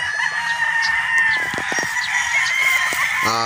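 A six-month-old Sweater Boston gamefowl rooster at a game farm in Batangas, among other chickens clucking close by, with a steady crow-like call sustained over the short span and sharp clucks near the end.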